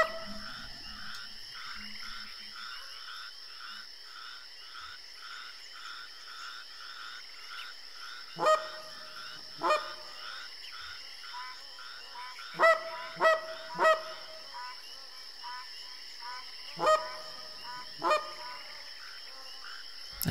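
Geese honk in scattered bursts near a goose-hunting spot, several sharp calls arriving in clusters over a faint steady background, with no voices present.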